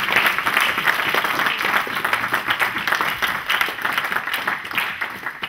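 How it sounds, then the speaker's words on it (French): A church congregation applauds steadily during a sermon, dense sustained clapping filling the room at a fairly loud, even level throughout, with no voices standing out. "Acclame le Seigneur ton Dieu."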